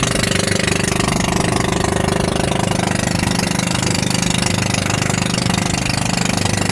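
A steady, loud fishing boat engine drone with a low rumbling knock runs continuously throughout, with no voices.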